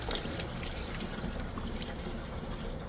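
A waterfall-style bathroom sink faucet runs at strong, powerful flow, giving a close, steady rushing and splashing of water that holds even and unbroken throughout.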